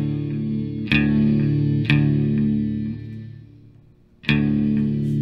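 An electric guitar sounds through a NUX MG100 Ultra Clean preset with the amp turned up, as three loud strummed chords ring out with chorus shimmer and slowly decay.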